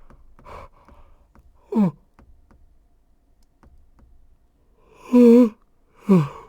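A person gives a big yawn with drawn-out, sighing vocal sounds in three loud bursts. Faint ticking and tapping, like keyboard typing, continues underneath between them.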